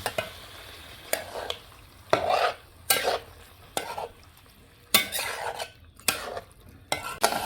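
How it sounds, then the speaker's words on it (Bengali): Chicken sautéed in spiced masala in a pan, with a continuous sizzle punctuated by loud rhythmic stirring scrapes and clinks of a utensil against the pot about every second, close and without talk. "মাংস কষাচ্ছে, আরও বাকি আছে"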